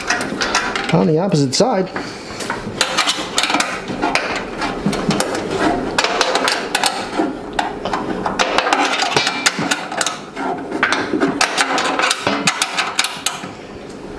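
Bolts being tightened on a Davy Crockett fuel hopper, with clanks, clicks and ratcheting metal knocks in irregular bursts close by, and a voice speaking briefly over it.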